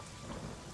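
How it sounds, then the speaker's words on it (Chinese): Heavy rain pours steadily while low thunder rumbles in the distance, a brief, dense, continuous storm ambience with no voices. "并且夹杂着隐隐的雷声。"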